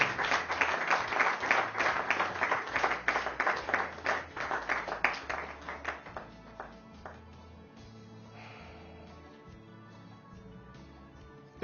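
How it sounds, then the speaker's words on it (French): Congregation at a church service applauding, a dense round of clapping that is loud at first and fades out over about six seconds, leaving quiet room tone with a low hum. "On ne peut pas quand même applaudir même une minute."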